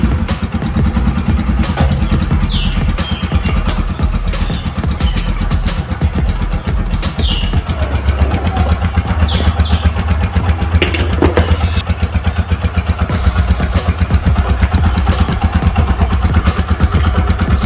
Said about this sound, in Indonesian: Scorpio pakai knalpot Tiger.